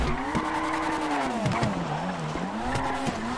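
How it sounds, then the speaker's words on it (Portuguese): Tires squeal steadily and loudly as a car drifts in GTA roleplay, the pitch sliding up and down under a revving engine with short clicks, and no voices. "Faz hora eu tô ouvindo um pneu derrapando."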